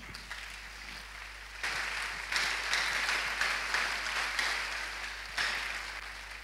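A church congregation at a Sunday service applauds, a distant, moderately faint wash of clapping that swells in several waves over a low steady hum.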